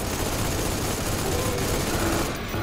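Dense, continuous automatic gunfire from a weapon in the video game Spacelords, loud and unbroken, forming a constant wall of rapid shots throughout.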